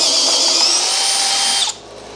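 A power tool works on rusted-solid bolts on a 1978 Corvette, giving a loud, close, high-pitched whine that holds steady for under two seconds and then cuts off abruptly.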